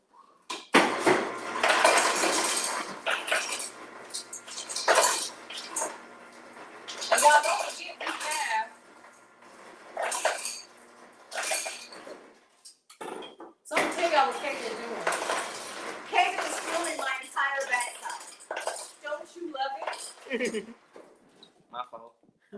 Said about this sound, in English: I'm gonna go ahead and put some ice in the glass.